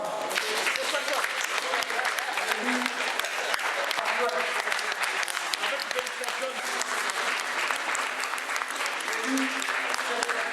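Sustained applause fills a hall as magistrates of Niger's autonomous magistrates' union elect their new board by acclamation, dense clapping continuing steadily for the whole stretch.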